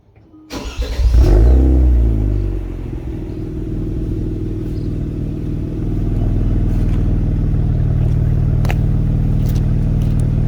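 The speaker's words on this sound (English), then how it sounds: "start it up to let you guys kind of hear what the exhaust sounds like now with the tips" A Kia Stinger engine cranks and fires up with a loud deep roar, then settles into a steady, throaty rumbling idle from a sporty exhaust with carbon fiber tips.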